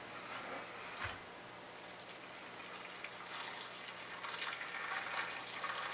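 A steady rush of hot water pouring into a blender, hissy and continuous, with a faint knock near the start and no talking.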